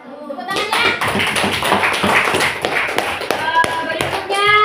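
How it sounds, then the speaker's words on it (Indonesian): A classroom of students clapping their hands together after a group presentation, brisk close claps filling the room with children's voices mixed in. "Tepuk tangannya."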